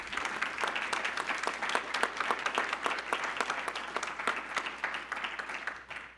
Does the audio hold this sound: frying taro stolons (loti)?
no